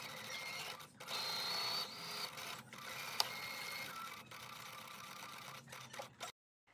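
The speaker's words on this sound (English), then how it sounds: "Starting at the marking, I'm going to sew it 5/8 around the collar band." A sewing machine stitches around the collar band of a chambray blouse, a steady close mechanical whir running in long bursts with brief pauses between them.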